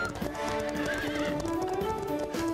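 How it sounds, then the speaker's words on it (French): Racehorses in a French-language cartoon gallop off with steady clip-clop hoofbeats and a whinny, loud and close for the whole short stretch, tones layered over the hoof rhythm. "Où sont mes chevaux de course? Ils sont partis par là."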